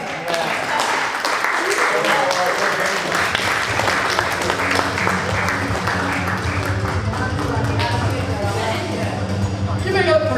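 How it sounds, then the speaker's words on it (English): At a comedy roast, a crowd claps steadily for about ten seconds, loud and sustained, while a voice speaks over the applause. "Clap it up for her."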